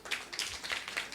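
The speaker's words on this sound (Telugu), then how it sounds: "పిల్లల ఎంకరేజ్ కోసం చప్పలు కొడదాం. Big claps." Children clapping at a Christmas celebration to cheer on dancers, a quick run of light, uneven claps of moderate loudness with no one speaking.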